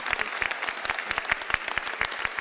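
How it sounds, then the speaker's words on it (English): A law school graduation audience claps for the dean: dense, brisk applause from many hands, with crisp individual claps popping out of a steady roar for the whole stretch, fairly close and full. "Would you all please join me in a rousing round of applause"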